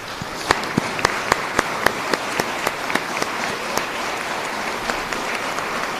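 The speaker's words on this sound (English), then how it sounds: "How about a round of applause for our..." An audience at a university inauguration ceremony applauds, a steady wash of many hands clapping in a hall with a few sharper individual claps standing out.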